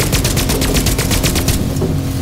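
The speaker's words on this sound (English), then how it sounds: "Someone's shooting at you guys." Rapid automatic gunfire in Fortnite Battle Royale, a loud burst of about a dozen evenly spaced shots lasting under two seconds and then stopping, with no talk over it.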